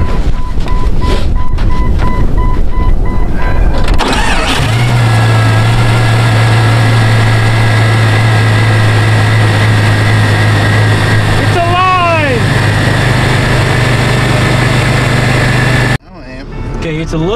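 A Jeep engine, smoking after two years of sitting with a mouse infestation, catches and settles into a steady low idle that runs for about ten seconds before cutting off.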